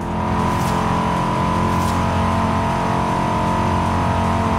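Engine of a Corvette C8 Z06 heard from the cabin in the Forza Horizon 5 racing game, a loud, steady droning roar held at high revs without a break.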